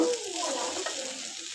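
Vegetable bhaji frying in a pan, a steady close sizzle with soft stirring scrapes and no voices.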